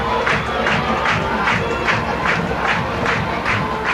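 A high school football crowd roars and cheers after a touchdown, loud and sustained with rhythmic swells of shouting from the stands, no clear talk over it.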